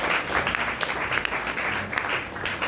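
A church congregation applauds together, a steady broadband wash of clapping that holds at an even level from start to finish with no voices rising above it.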